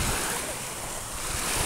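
Steady roar of sea surf washing in at the shore, broad and rushing, with wind buffeting the microphone throughout.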